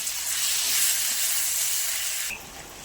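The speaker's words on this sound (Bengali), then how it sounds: "পেঁয়াজে একটু চিনি নুন দিয়ে ভাজতে দিয়েছি।" Steady, bright sizzling hiss of onions frying with a little sugar and salt in a hot pan, continuous and close, dropping slightly in level near the end.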